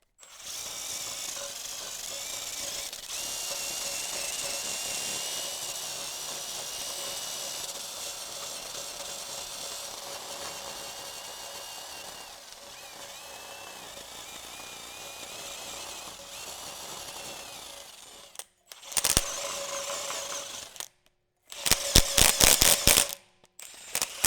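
A scrubbing pad works rust off the brake hub surface of a Toyota 200 Series Land Cruiser in a steady, close abrasive rasp. After a pause come several short, harsher bursts of scrubbing with gaps between them.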